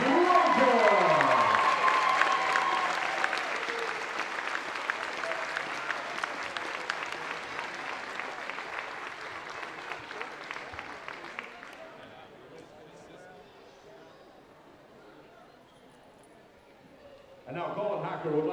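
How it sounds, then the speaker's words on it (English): Loud applause from a crowd at a MUDECAS volleyball awards ceremony for the runner-up Tri-County Trojans, steady and dense at first, fading over time, then rising again near the end with voices mixed in. "A big round of applause to Tri-County Trojans."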